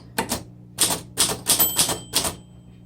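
Keys strike sharply on a 1929 Underwood 4 Bank typewriter, about seven crisp clacks in an uneven rhythm, close and clear against a quiet background.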